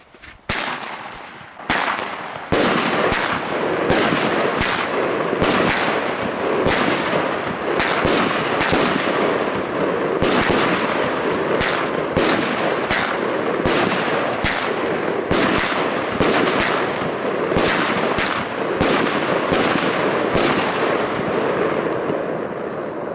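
Loud, rapid bursts from a Tytan Blitz fireworks cake launcher crack one after another for over twenty seconds, a dense, relentless barrage close by.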